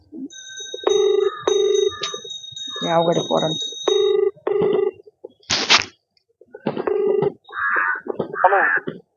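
A telephone rings in a repeating pattern of electronic tones, fairly loud and close, with bursts between and around people talking in Marathi.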